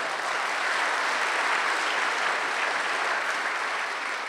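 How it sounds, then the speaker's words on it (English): Audience applause at a public talk in a crowded venue, a steady dense wash of many hands clapping that holds evenly for several seconds, with no voices over it. "So applause for Joel."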